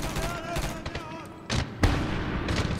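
A frag grenade exploding in Medal of Honor, with a couple of heavy booms landing close together amid ongoing battle noise and distant gunfire.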